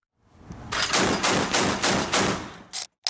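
Burst of sustained rapid automatic fire from an M242 Bushmaster 25mm chain gun, a loud, rhythmic stream of heavy shots lasting about two seconds, with a brief pause and one more short burst at the end.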